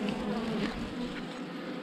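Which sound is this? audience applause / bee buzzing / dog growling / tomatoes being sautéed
bee buzzing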